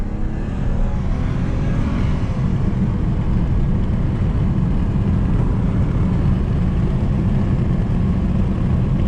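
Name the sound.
BMW 328xi E90 engine accelerating in second gear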